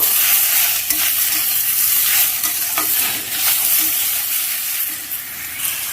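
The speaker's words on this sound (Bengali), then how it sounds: "এর উপরে কেটে রাখা শাক আমি দিয়ে দিচ্ছি, দিয়ে আবার একটু কষে নেব" Chopped spinach tossed with already-fried vegetables in a hot pan gives a loud, steady sizzle and hiss, broken by scraping stirs, with no talking.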